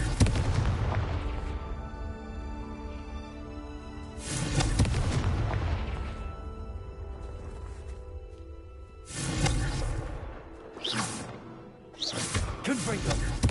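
A Confringo blasting spell erupts repeatedly in Hogwarts Legacy: four loud, broadband bursts at uneven intervals, interleaved with characters talking during a battle.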